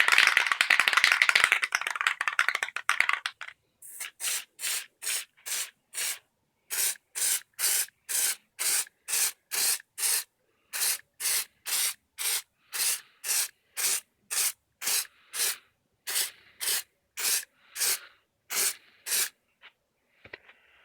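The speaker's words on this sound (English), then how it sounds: "I'm going to go ahead and apply a second coat with the gray Plastidip." Gray Plastidip rubber coating sprayed from an aerosol can as a second coat on a DIY action figure base, heard as a long run of short, regular hissing bursts close by, following a brief rattle and rub at the start.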